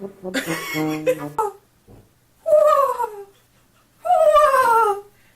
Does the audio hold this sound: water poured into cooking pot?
no